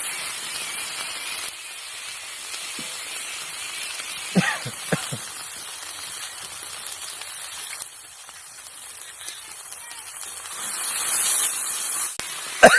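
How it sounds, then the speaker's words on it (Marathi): Hot oil sizzles as cumin, turmeric, green chilli, garlic and chopped coriander go in for a Marathi-style tempering for bhogi vegetable curry, a steady close hiss with sharp crackles and pops, louder and busier toward the end. "फोडणीचा तर ठसका लागला बाबा जोरात."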